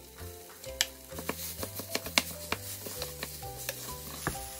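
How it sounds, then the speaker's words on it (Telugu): A spatula stirs freshly cooked rice with mint paste in a pan, scraping and tapping in a steady repeated rhythm of sharp clicks over a soft sizzle and a faint tonal background. "ఈ రైస్కి పుదీనా పేస్ట్ మొత్తం మిక్స్ అయ్యేలా కలుపుకోండి."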